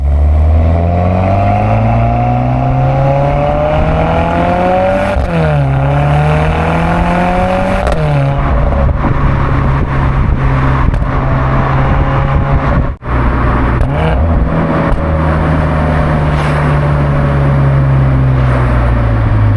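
The engine of a new Mercedes-AMG C43 sports car revs hard and climbs through the gears with rising and falling pitch, loud and close, then settles to a steady drone after a brief gap.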